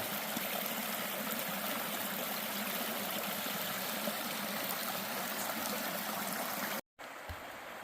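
A river beside a small Appalachian meadow flows with a steady, close rushing hiss of water that cuts out briefly near the end.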